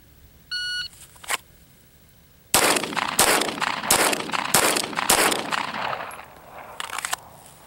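A shot timer beeps, then a Glock 17 Gen 5 MOS pistol fitted with an Apex trigger fires a quick string of loud, sharp shots at close range, spaced under a second apart.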